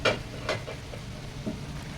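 Chicken adobo flakes with boiled eggs and fried saba banana are stirred in a pan, a few scraping strokes of the utensil over a soft background hiss, with no talking.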